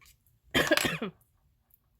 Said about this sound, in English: Still battling whatever this cough thing is.